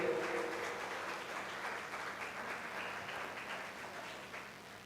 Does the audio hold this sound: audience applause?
yes